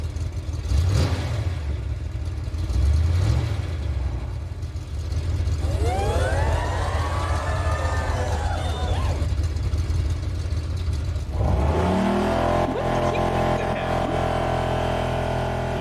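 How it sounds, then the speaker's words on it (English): A car engine revs hard several times, rising and falling in pitch with a rough, sputtering tone, then settles into a steady droning run toward the end, heard up close and loud. "You guys want to hear the car go vroom?"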